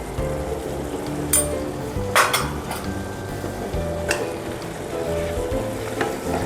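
Turmeric and cumin powder fry in a pan with a steady sizzle while a spoon gently stirs, tapping and scraping the metal now and then, close and fairly loud.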